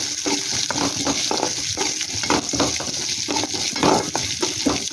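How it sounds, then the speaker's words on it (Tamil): Shallots and garlic frying in a pan while being stirred: a continuous close sizzle broken by repeated rhythmic scraping strokes, loud and unaccompanied by speech. "சின்ன வெங்காயமும் பூண்டும் ஒரு சேர்த்துக்கலாம் சேர்த்து அதையும் நல்லா கிளறி விட்டுக்கலாம்"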